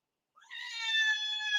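A cat gives a single drawn-out, rising meow, close and clear, starting after a brief silence and holding to the end.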